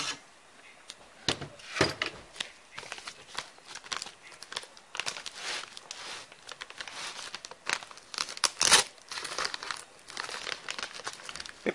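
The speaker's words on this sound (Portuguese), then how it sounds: "Então, eu vou desembalar aqui para vocês verem." Packaging around a broken inverter machine is unwrapped with continuous crinkling, rustling and occasional tearing, close up, in irregular bursts throughout.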